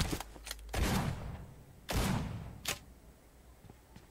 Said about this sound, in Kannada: ಅದೇ ಡಬಲ್ ಬ್ಯಾರಲ್. Gun name.